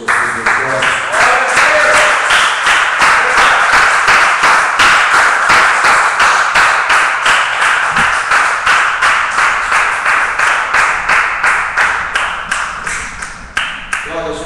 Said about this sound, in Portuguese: Vamos aplaudir o Senhor Jesus de glória.